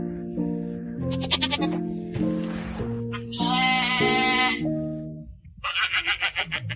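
Sheep bleat several times close by, long quavering cries that follow one another, with a shorter run of rapid bleats at the end.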